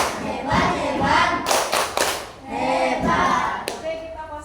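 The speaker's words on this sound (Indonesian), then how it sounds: "kita berikan tepuk hebat untuk kelompok 3" A classroom group performs a chanted 'tepuk hebat' clapping routine, rhythmic clusters of loud claps from many hands in a set pattern, with voices chanting along between beats.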